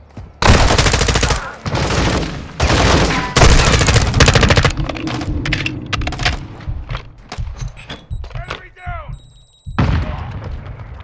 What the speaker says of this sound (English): Oh my gosh, what a sexy rifle.